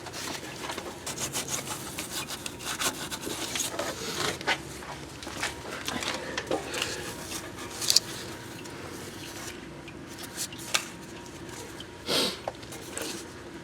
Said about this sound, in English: I've got the Scotch-Brite pad here that really cleans up gasket surfaces well